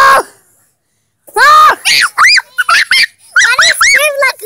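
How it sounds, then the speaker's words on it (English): A girl screams in a string of short, high, piercing yelps close to the microphone, coming in quick bursts after a brief pause. "Why do you scream like a girl?"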